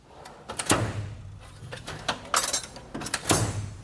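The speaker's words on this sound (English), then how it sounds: "when I close this drawer, the whole thing kind of wobbles around" A metal toolbox drawer on a Snap-on EPIQ or Sonic S15 toolbox slides and closes with several sharp clanks and rattles, followed by a wobbling clatter as the box wobbles, close by with no talking.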